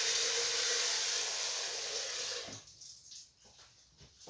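Water pouring from a tap into a clean cooking pot in a rural kitchen, a steady rushing hiss for about two and a half seconds, then stopping into quieter sloshing and faint handling sounds.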